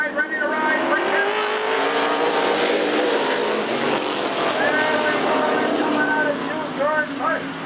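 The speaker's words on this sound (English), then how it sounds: "Start your engine and let's go racing" Stock race cars roar together in a steady, loud engine drone with rising and falling pitch as they pass, a continuous wall of sound on a short track during a Thursday night race, with an announcer talking over it.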